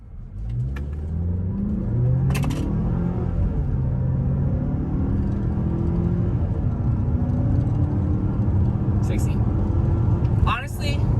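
A 2021 Mazda CX-5 Turbo engine pulls hard through a full acceleration run on a clear road with traction control off, its rising drone and rumble sustained and loud from inside the cabin, with brief clicks and no talk.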